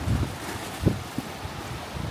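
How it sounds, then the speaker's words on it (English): Strong wind buffets the microphone in low, uneven gusts, with a few sharper thumps of rushing air and no voices. "Well, that wind's strong."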